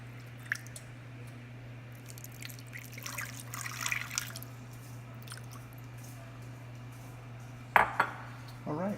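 Water poured into a roasting pan holding garlic cloves, a soft trickling and splashing over a steady hum, with a few sharp metallic clinks of the pan near the end.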